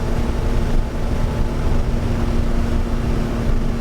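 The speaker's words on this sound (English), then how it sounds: "Hopefully that'll cut down on some of the wind noise" Steady, loud broadband wind rush inside a moving gray Ferrari 330 GTC, with a constant low engine drone underneath and no talking.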